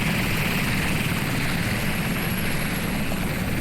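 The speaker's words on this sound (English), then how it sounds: "I'm going to bring that helicopter in just so it's not as annoying" Helicopter in the Sea Power naval simulation game, a steady loud rotor and engine drone holding constant and close throughout with no break.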